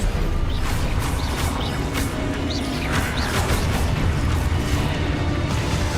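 Spell blasts and explosions in the Hogwarts Legacy video game come as a dense, loud, continuous barrage of booms and crashing bursts. A few sharp whooshing zaps cut through without pause.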